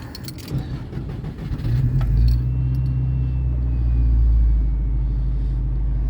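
Subaru Impreza STI Type RA with a 2.1 stroker twin-scroll engine running 1.2 bar boost, heard from inside while driving: a steady, loud low engine drone that swells after a brief shuffle and rattle at the start, with no talking.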